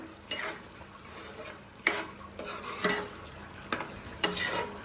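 Cooked mutton (goat meat) curry stirred in a pot, with a few distinct scraping, clinking stirs over a soft sizzle, close and moderately loud.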